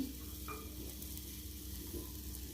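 Noodles with green chilli and onion frying in a pan, giving a steady low sizzle with occasional stirring scrapes throughout, fairly quiet and with no talking.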